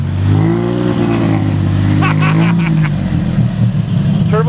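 A turbocharged, fuel-injected car revving loudly as it drives past on a street, its engine note rising and falling close by, with brief sharp noises partway through.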